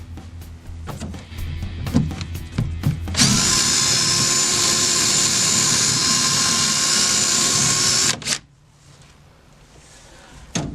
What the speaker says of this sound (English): Now I'll walk in the bit a little bit because I'm just trying to take the head off the screw.